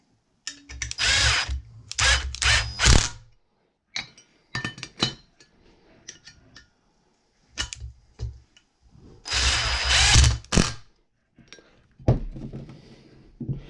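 Power tool driving a 10mm bolt tight on a lawn tractor flywheel gear, heard in several loud bursts of whirring drive with brief clinks between, close by and with no talk.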